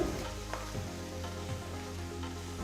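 Thinly sliced onions fry in a pan with a soft, continuous close sizzle, a few faint scrapes of stirring breaking through the steady crackle.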